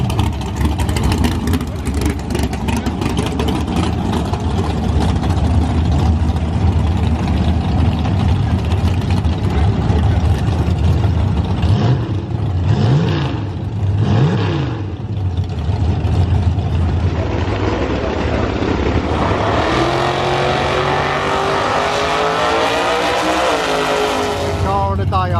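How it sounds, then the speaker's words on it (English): A Camaro and a Mustang drag racing at Santa Pod in the UK, engines idling and rumbling before a loud rising rev and launch near the end, with crowd chatter and announcements mixed throughout. "Camaro versus Mustang."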